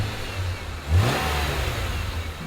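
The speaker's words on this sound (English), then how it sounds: "Little rev." BMW Z3 with a 2.8-liter engine and manual gearbox revs once from idle, a quick rising blip that settles back to a steady idle, close by.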